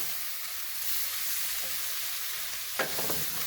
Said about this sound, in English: you're going to mix this around. You don't want to mash the sweet potatoes